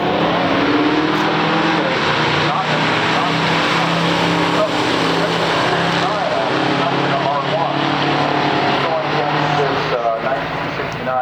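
A 1969 Mercury Cougar Eliminator and a 1964 Studebaker Daytona in a stock drag race, with loud engines roaring steadily throughout and a pulsing rev texture, close and continuous, while a voice talks faintly over the din.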